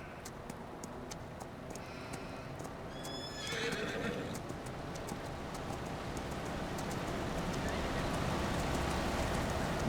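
Horses neigh and whinny while hooves clip-clop in a steady run, over a constant rushing background, with game-like ambience throughout, in Farming Simulator 25.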